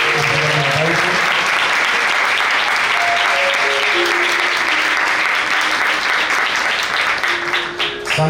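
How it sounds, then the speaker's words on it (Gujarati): Loud, dense applause from a large crowd at a religious satsang gathering in Bhachau, sustained and even for several seconds with a few voices mixed in, easing off slightly at the very end. "એકવાર જોરદાર તાળીઓથી વધાવીશું."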